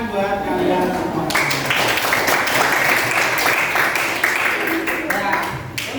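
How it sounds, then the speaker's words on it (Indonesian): Students in a classroom clap together, a dense burst of applause that swells after a moment of voices and keeps going steadily, with talking mixed underneath. "sekali lagi tepuk tangan buat kalian semua."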